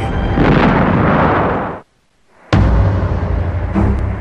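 Loud bomb and artillery explosions roar in two heavy bursts with a brief silent gap between them, big rumbling blasts filling the space at close range.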